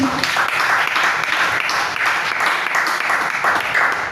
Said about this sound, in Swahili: Tupigie Yesu makofi